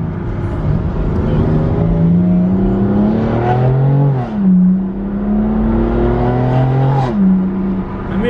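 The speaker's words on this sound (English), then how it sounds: "You could do a first to second gear pull, I guess." A nearly stock project car accelerates hard through first and second gear, the engine note rising steadily, dropping at the shift around the midpoint, then climbing again, loud and close throughout with no talk.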